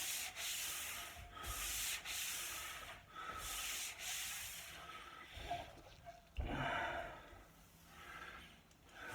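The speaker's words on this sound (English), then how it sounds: "if you're unsure of what the purpose of this light sanding is for" A wooden dining table gets a light hand sanding, close-up rhythmic rubbing strokes in repeated bursts with short pauses between them.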